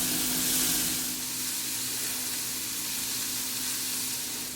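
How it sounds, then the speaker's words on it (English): Bacon and sliced onion frying in a pan, giving a steady, close, loud crackling sizzle with a constant hiss and no talking. "cook this for about 10 minutes until the bacon is crisp and the onions are slightly brown on the edges"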